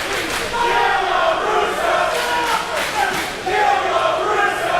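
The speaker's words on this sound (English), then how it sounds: "And the chants begin, showing just how biased this crowd is." A wrestling crowd at a multi-man match chants together, loud rhythmic massed voices filling the arena in swelling waves across the whole stretch.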